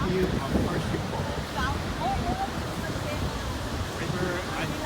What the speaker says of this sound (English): A nice view of Horseshoe Falls